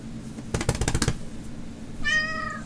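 A pet cat named Griffin gives one clear, close meow near the end, after a quick burst of knocking or tapping sounds.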